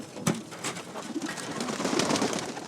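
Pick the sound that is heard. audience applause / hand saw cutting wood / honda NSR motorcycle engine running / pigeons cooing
pigeons cooing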